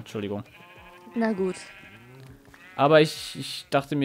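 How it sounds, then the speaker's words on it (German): Sheep in the Minecraft video game bleat several times while being sheared, the bleats trading off with someone speaking close by. "ich bin gerade Schafe am Scheren"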